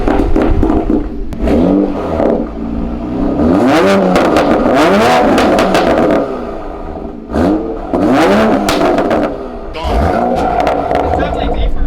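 A 2020 Toyota Supra's engine revs repeatedly in loud, rising bursts through a newly installed exhaust, with a deep exhaust roar between throttle blips and voices talking over it.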